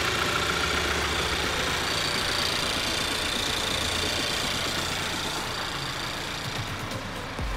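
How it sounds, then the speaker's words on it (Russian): A 2014 Mazda CX-5 at a US salvage auction, with a bent pillar and a caved-in door, idles steadily. The engine makes a constant, close, even hum with no voices. "Автомобиль у нас заведенный. Работа мотора отличная."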